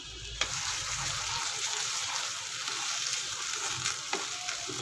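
A cashew and poppy seed paste sizzles and fries steadily in a pan as it is stirred, giving a soft continuous hiss with occasional scraping clicks of the spoon, and no voices.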